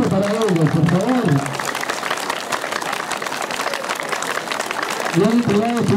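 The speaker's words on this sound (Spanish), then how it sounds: "Un fuerte aplauso para ellos, por favor." A crowd applauds at a school flag-raising ceremony for an institution's 62nd anniversary, steady clapping filling the middle of the clip while a voice talks over the start and end.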